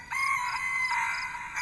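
A rooster crows in a single sustained, tonal call at moderate volume, clear and alone, with no voices over it.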